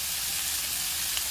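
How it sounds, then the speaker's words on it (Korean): Pork sizzles loudly in avocado oil in a pot for kimchi stew, a steady, close, crackling hiss with no talking. "냄비에 아보카도 오일 두른 후 돼지고기 넣고"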